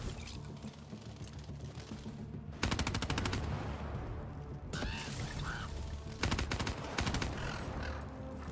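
Machine-gun fire in the Call of Duty Black Ops 3 campaign comes in several fast, sharp bursts with pauses between them, set against a busy battle backdrop.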